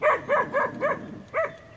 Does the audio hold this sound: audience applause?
no